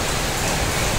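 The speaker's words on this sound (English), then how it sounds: "It's really, really raining here." Heavy rain pours down in Kuwait, a dense, steady hiss of drops striking surfaces close by, loud and unbroken with no voices.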